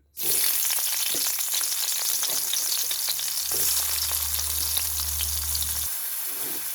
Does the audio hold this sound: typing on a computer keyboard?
no